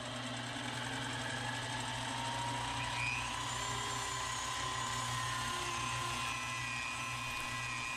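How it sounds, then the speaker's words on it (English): A Dremel rotary tool grinds a stainless steel ring in a steady, continuous high-pitched whine with some wavering in pitch, running the whole time at moderate level. "You can take the ring down to the size you want with the Dremel tool."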